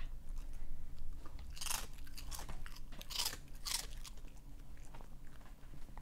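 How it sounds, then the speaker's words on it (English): A pet crunches a Friendly Alpaca shrimp chip up close, giving about three crisp bites spread over a few seconds against a steady low room hum. "I will give Lucy a shrimp chip"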